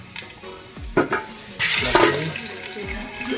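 Mustard seeds dropped into hot oil for a pasta snack set up a steady close sizzle that swells sharply midway and carries on, with a few knocks of a utensil against the pan.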